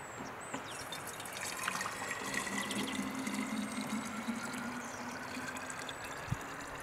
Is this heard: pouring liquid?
yes